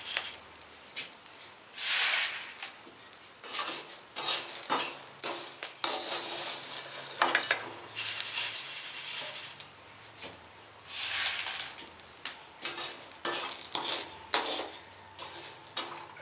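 Chickpeas are roasted and stirred in a pan, with a metal utensil scraping and clinking against the pan in irregular bursts and dry rattling between strokes, close and moderately loud.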